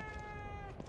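A cat in The Evil Within 2 gives a single brief meow, a harmonic cry lasting under a second, set against a dense background of game sound.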